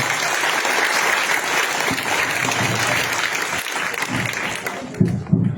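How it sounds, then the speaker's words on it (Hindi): An audience at a school event claps in a sustained burst of applause that stays loud and even, then thins out near the end as a few voices come through. "तालियां बजा रहे हैं।"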